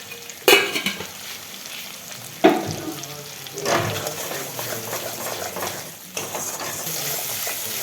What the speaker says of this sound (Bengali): এটা একটুখানি মানে ভাজা ভাজা একটু কষানো হয়ে গেলেই জল দিয়ে দেওয়া হবে।